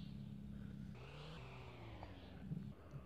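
A car engine in an Android multiplayer racing video game drones steadily, its pitch rising and shifting as the engine revs, close and constant throughout.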